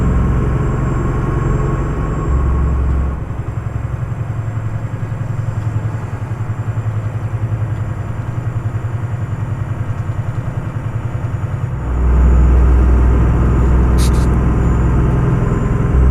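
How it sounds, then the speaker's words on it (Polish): The V8 engine of an Italian truck in Euro Truck Simulator 2 rumbles in a steady low, throbbing idle that drops quieter for a stretch, then swells louder again near the end, with no talk. "Sobie turkocze elegancko ten silnik."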